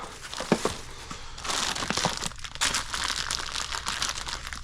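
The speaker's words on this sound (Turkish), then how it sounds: "Yine çöp poşeti var." A plastic garbage bag is handled up close, giving a continuous crinkling and rustling that grows busier and louder after the first second, with no voices.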